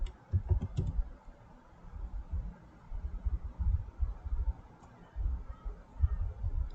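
Keys clack on a computer keyboard in quick, uneven bursts, soft and close, with short pauses between runs of typing and no talking.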